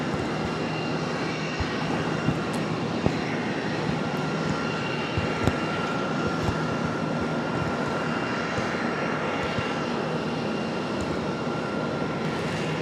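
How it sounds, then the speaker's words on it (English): A CRJ regional jet arriving from Greenville-Spartanburg lands at Charlotte airport, a steady roaring engine drone heard from a distance throughout, with faint clicks and no voices. "So CRJ coming in center from Greenville, Spartanburg, right down the road."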